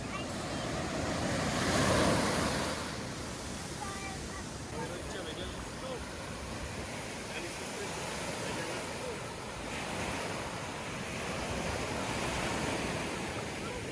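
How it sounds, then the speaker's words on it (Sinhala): Ocean waves wash onto a quiet beach in a continuous surf roar with gentle swells and some wind noise on the microphone. The waves sound moderately close, with no talking. "මේ මුහුදේ තියෙන ලස්සන."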